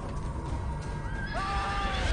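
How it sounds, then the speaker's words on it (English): A horse neighs in a western video game set in 1880s Montana, a loud whinny rising out of steady background game noise in the last second. "Don't hurt the horse."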